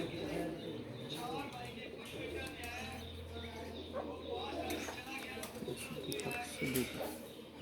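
A pigeon with eye trouble coos softly in low, throaty bursts, close but faint, under a person talking, with light chirps in the background.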